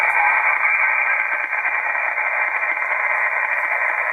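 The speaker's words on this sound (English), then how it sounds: "So you can hear how much static I've got." Steady broadband static hiss from an amateur radio HF transceiver with a high noise floor, continuous and even for several seconds with no signal breaking through.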